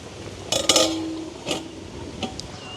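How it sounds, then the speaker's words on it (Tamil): A metal lid is set onto a cooking pot of vegetables in a village kitchen: a few close clanks and rattles, one sharp with a brief ringing tone, then a softer knock. "இப்படியே இன்னும் கொஞ்சம் அவியட்டுக்கு மூடி விடுவோம்"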